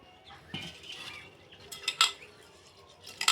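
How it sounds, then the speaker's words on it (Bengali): Red lentils are tipped into a bowl in a kitchen, giving a soft pouring rattle followed by a few sharp metallic clinks of a utensil against the bowl, close and intermittent. "ডালটা একটা বাটিতে নিয়ে নিচ্ছি।"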